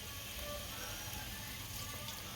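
Water is poured into a pan of spiced stuffed bitter gourds, producing a steady, faint, continuous splashing hiss that lasts the whole moment.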